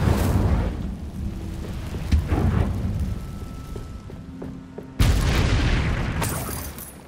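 Incendio fire spell cast in Hogwarts Legacy, booming bursts of flame with a strong low rumble, one blast early and a second sharp surge midway through, loud and close.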